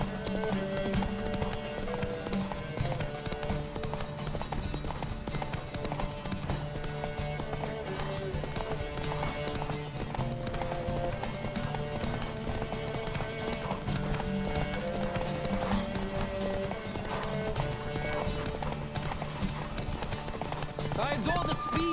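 Horse hooves gallop in a steady, fast clip-clop rhythm through the Witcher 3 game, running close and continuous under voices and background music.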